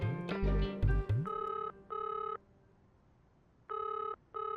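After a few loud electronic beeps and tones, a phone rings unanswered in repeated short electronic bursts, two in quick succession, a gap, then two more, with no voices.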